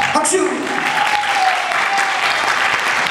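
Loud, dense crowd applause at a rock festival during band member introductions, a constant roar of clapping with a voice briefly over the start.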